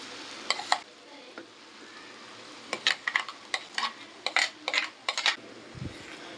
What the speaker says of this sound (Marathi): वाटणी छान परतून घेऊया